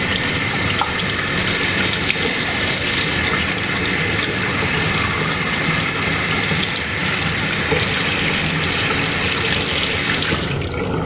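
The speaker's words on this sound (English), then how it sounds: "then I'll usually just rinse it out with some hot water" Hot water rushes steadily while a hookah is rinsed out, a loud, continuous gushing splash that stays even for about eleven seconds.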